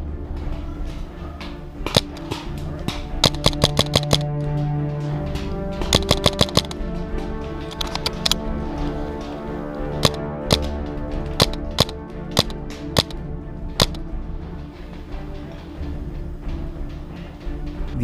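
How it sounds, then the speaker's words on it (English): Paintball gun laying down suppressing fire in woodland among ferns, with sharp pops fired in quick bursts and single shots at irregular intervals, close and crisp. "I can put down suppressing fire as my squad slowly advances from the other side of these ferns."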